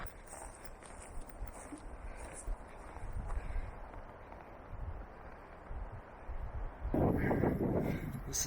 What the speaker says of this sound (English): It is so windy here, y'all.